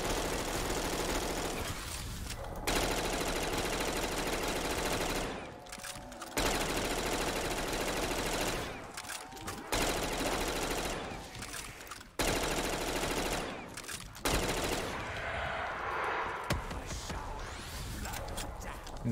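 Video-game gun in a zombies mode, sustained automatic bursts loud and up front, separated by brief pauses, with other game noise layered underneath.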